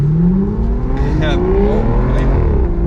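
An Aston Martin Virage engine revs hard as it accelerates, with crisp exhaust pops and crackles scattered over the steady roar.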